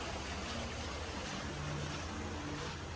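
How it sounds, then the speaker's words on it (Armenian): Sea waves at Sharm El Sheikh wash in a continuous broad rush, soft and steady with a faint low rumble underneath, with no distinct breaks or voices. "ես կարող եմ նստել ու անվերջ նայել ծովի ալիքներին կամ լսել ալիքների ձայնը"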